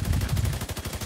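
Rapid automatic gunfire in The Division 2 pours out in a dense, loud, continuous burst of closely spaced shots with no talking.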